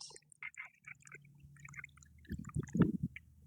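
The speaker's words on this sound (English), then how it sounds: "I'm going to pour the water over it." Water is poured over peat pellets in a seed-starting kit, giving quiet trickles and drips that build into a short burst of louder splashing and gurgling near the end.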